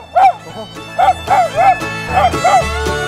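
A dog in China gives a series of short yips and barks, about six in a row at moderate loudness, over a steady hum of background noise and some voices.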